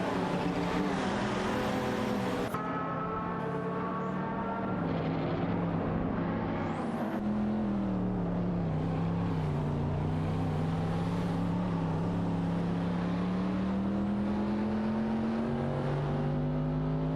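Video game race with cars including a Porsche 959 and a De Tomaso Pantera DT5 SE, engines droning and revving continuously, pitch rising and falling as the cars accelerate and shift, loud and sustained with no talking.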